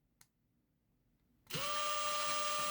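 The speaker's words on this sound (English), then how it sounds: "just drill a couple of holes in so I can demonstrate" After a brief click, a Bosch 18V Flexiclick power drill starts up drilling pilot holes and runs at a steady high whine, loud and close, spinning continuously.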